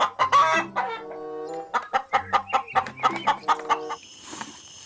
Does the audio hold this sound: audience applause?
no